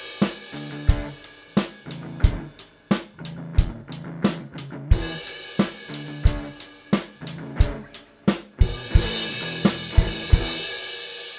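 A rock drum groove plays through a full four-bar pattern with crash cymbals landing on the guitar hits, a steady close kick and snare backbeat and bright cymbal washes building toward the end.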